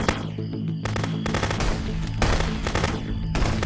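Rapid bursts of gunfire in the video game Contraband Police, loud, close automatic and repeated shots in several strings with brief gaps between them, no talk.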